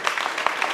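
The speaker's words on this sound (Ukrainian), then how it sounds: "Оплески Ісусу Христу, Спасителю нашому!" Congregation applauding during a church worship service, a short stretch of dense, even clapping from many hands in a room.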